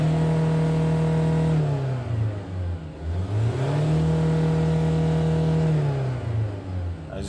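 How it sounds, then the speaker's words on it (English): A 2004 Kia Sorento 4WD diesel engine with an automatic transmission revs up smoothly, dips, and climbs again in two clear acceleration sweeps, a close, loud engine drone rising and falling in pitch with no talking. "Let's try to accelerate and check out the RPMs."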